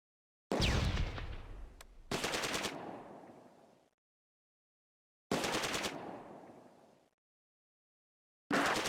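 Machine gun fire in the Close Combat A Bridge Too Far game, Polish drop zone battle: several loud sustained bursts, each cracking hard then trailing off, separated by silent gaps.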